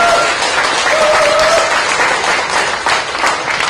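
An audience at a Korean book concert with a performance by the Parangsae arts troupe applauds warmly, a loud continuous wash of clapping that ebbs slightly near the end, with faint voices underneath.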